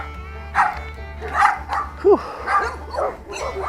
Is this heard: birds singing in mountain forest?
no